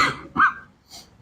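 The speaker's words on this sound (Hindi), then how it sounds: "आज पता नहीं खांसी कुछ ज्यादा आ रही है मुझे" A man coughs during a physics lecture, two or three harsh, close bursts separated by short pauses, with no other sound around them.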